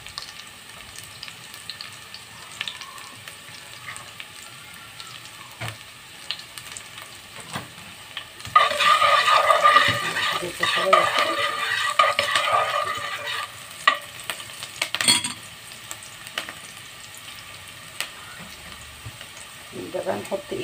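Seafood is sautéed with onion in a pan. After a quiet stretch, a loud hissing sizzle bursts up as food hits the oil, then settles into fluctuating frying with a few stirring clatters.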